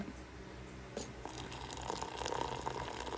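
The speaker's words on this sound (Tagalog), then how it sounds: "Lalagyan natin siya ng tubig." Water trickling and splashing softly as it is poured into a coffee drink mix in a cup, faint and close, building slightly toward the end.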